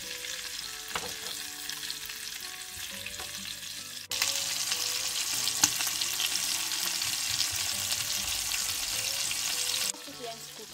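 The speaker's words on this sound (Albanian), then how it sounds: "i fërgojmë kështu në zjarë mesatar për 4 deri në 5 minuta deri sa të skuqen mirë në të dy anët" Chicken thighs sizzling in hot oil in a pan over medium heat, a steady close crackle that swells louder partway through as pieces are turned, with faint scraping and no talk.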